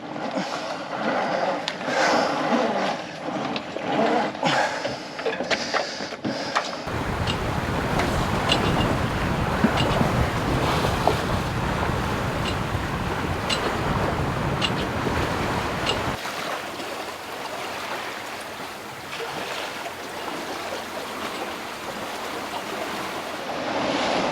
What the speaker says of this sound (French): Il y a un peu plus de 15 nœuds de vent